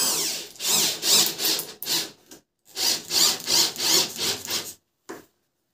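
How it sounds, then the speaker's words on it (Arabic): A power drill drives a screw into wood, giving repeated loud grinding bursts in a rough rhythm with short pauses, then a final brief burst before the motor stops. "في حالة ان انا جبتها هنا على الشنيور دخل المسمار معايا في الخشب"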